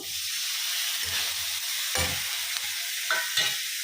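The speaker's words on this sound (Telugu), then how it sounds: "టమాటాలు వేసేస్తున్నాను." Tomatoes drop into a hot frying pan with oil, sparking a loud, steady sizzle punctuated by a few sharp stirring scrapes, close up and without talk.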